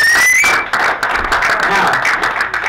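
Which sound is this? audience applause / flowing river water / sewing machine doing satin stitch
audience applause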